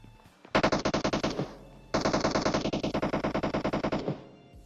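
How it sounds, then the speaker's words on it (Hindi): Automatic gunfire in the PUBG Mobile battle-royale game: two long, rapid bursts of evenly spaced loud shots, separated by a brief pause, close and dominant with no talk over them. "अब गोलियां चल रही है दबा के"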